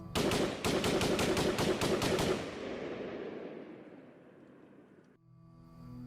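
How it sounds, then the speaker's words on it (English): AR-15 rifle gunfire as a sound effect: a loud, rapid burst of about a dozen close shots, then a long echoing decay fading into a low hum. "He pulled out his AR-15 and started firing."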